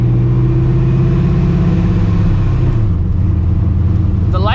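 Loud in-cabin engine drone of a Ford Mustang with the 2V V8 while driving: a steady low rumble with a clear pitch that holds, then steps down as the engine eases off, with a brief voice near the end.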